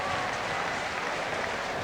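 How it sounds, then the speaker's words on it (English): Dense, steady roar of a basketball crowd in an arena at a 1984 NBL game between the Melbourne Tigers and Newcastle Falcons, a continuous wash of cheering and applause with no pauses. "The crowd love that"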